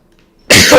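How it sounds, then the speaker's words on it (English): A single sudden sneeze bursting out of silence, short, loud and close, heard during Minecraft gameplay with the HBM nuclear tech mod. "Sneeze."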